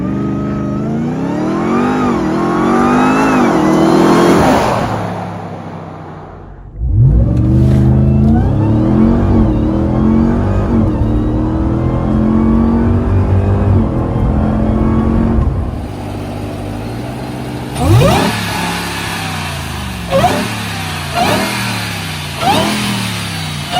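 Supercharged Ram TRX engine fitted with an S&B cold air intake, revving loud and close with rising supercharger whine, a brief lull, then a long sustained rev followed by several sharp throttle blips.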